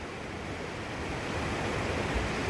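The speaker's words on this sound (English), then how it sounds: "there's the water." Ohiopyle waterfall rushing steadily, a dense continuous roar of falling water heard close and loud, no voices.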